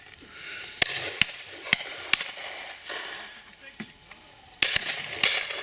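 Shotguns fire at a pheasant and partridge shoot, several sharp, fairly distant cracks spaced irregularly, with people talking and calling out over the reports.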